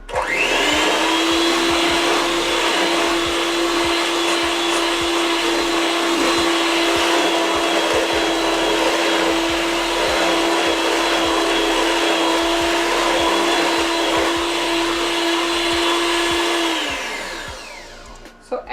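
An electric mixer whirs steadily on high through lemon cake batter made with buttermilk, holding one loud, even motor tone for about seventeen seconds before spinning down at the end.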